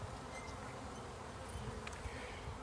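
Honeybees swarming around an open hive, a dense steady buzzing drone close by, with a few individual bees flying past nearer.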